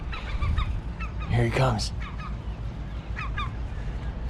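A seagull with its chick near a rooftop air conditioning unit gives harsh squawks and throaty growling calls, loud and close, in bursts through the stretch, with someone speaking briefly.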